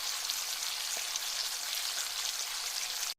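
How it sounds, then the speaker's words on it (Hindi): Eggplant frying in a pan with about two spoonfuls of oil, producing a steady, bright hiss heard up close and alone, with no talking. "इसमें अपने तमाम तर बैंगन को आपने फ्राई करना है।"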